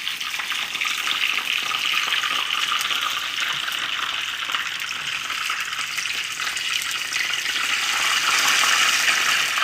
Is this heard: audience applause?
no